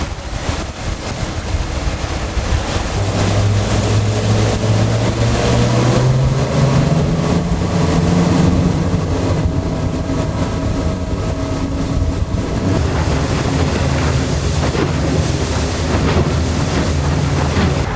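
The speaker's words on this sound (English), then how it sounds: "It's a perfect time to run the boat." A new 28-foot Freeman Boatworks motorboat's engine drones steadily while the hull slaps through choppy bay water, with heavy wind buffeting the microphone throughout.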